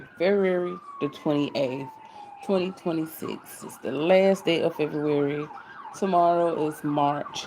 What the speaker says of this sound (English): If you hear sirens in the background